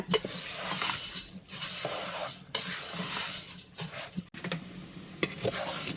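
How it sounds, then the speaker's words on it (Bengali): Polao rice with cardamom, cinnamon and bay leaf frying in oil in a pot, with a steady close sizzle broken by scraping stirs at roughly one-second intervals and an occasional sharp clink of the spoon. "চালটা আমি খুব সুন্দর করে ভাজা দিয়ে দিছি"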